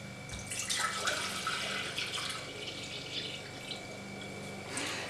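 Water pours steadily from a tap into a pot, 1.5 litres measured out for a light pear syrup, a continuous close splashing rush that fills the whole stretch with no talk.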